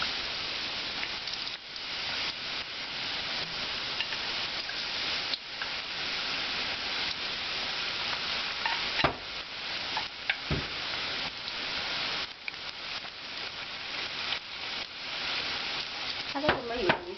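Kabocha pumpkin slices deep-frying in hot oil give a steady, dense sizzle with crackling and bubbling that holds at an even level throughout, with a few brief louder pops.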